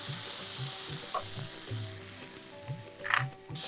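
Manchurian being stirred in a sizzling frying pan, a steady frying hiss broken by several close scraping and clattering strokes of the spoon, with no talk.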